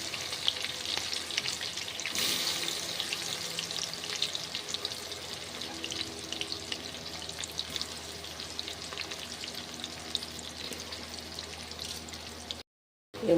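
Mango pieces for pickle sizzle and crackle steadily in hot oil with ginger, garlic and green chilies, a dense continuous frying hiss with occasional stirring, close up, ending in a brief cut to silence.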